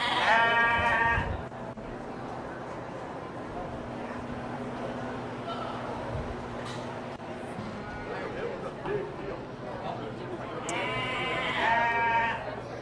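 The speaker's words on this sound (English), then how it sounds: "We got a couple of hair sheep out here" Hair sheep bleat loudly at a county fair sheep and goat show, with one quavering call at the start and another near the end over a steady hum of crowd noise and indistinct voices in the show barn.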